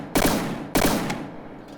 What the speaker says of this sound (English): Looks like the cannons are firing properly.